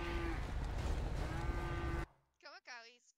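Cattle lowing in a GTA role-play game, a loud near moo with a noisy rumbling bed, then a couple of short bellows after a sudden drop to quiet.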